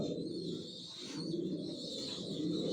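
Racer pigeons coo in a steady, soft, low murmur that runs on throughout with no talk, and a faint higher tone hangs over it.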